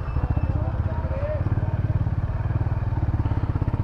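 Honda RS 350 motorcycle with a 350 cc engine, its bassy exhaust note thumping in a steady, rapid low pulse close up while someone talks over it.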